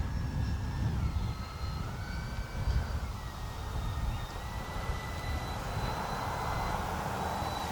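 E-flite Beechcraft D-18 RC model plane takes off in wind, twin electric motors whining with rising and shifting pitch over a steady roar of wind buffeting, heard alone without talk.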